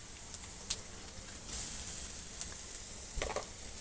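Leftover rice fries in a pan with a faint, steady sizzling hiss, a few brief crackles and a short scraping stir near the end.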